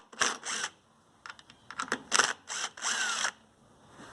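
An 8mm socket wrench ratchets as it loosens three screws on the carburetor of a Toro Recycler 20331 mower, giving several short, close clicking bursts with brief pauses between them.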